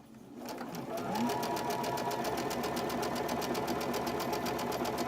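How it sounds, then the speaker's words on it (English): A sewing machine stitches fabric pieces for quilt half-square triangles, starting after a short pause and then running in a fast, steady, even whir of needle strokes at close range. "I'm over here at the sewing machine and I'm going to sew on the right and the left of that line"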